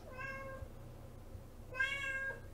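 A cat meows twice, each a short tonal call separated by a pause, moderately near against a quiet, low hum.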